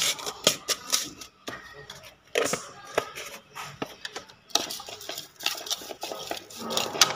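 Utensil stirring and clinking against a dish as seasoning is mixed into a pumpkin and steamed snakehead fish dish, irregular close taps and scrapes in bursts.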